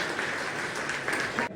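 An audience breaks into brisk, dense clapping that holds steady and close, then cuts off abruptly, with faint voices mixed in.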